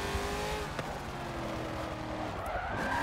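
In Forza Motorsport 7 on Xbox One, played with a MOZA R3 wheel, a car drifts with a steady engine drone and tire squeal. The short burst is continuous and close, with no talking.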